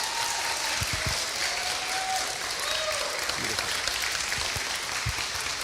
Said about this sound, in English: Would you give a round of applause for Chris?